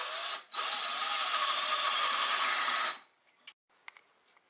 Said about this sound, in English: So we have a 1-inch pipe thread tap mounted in our socket wrench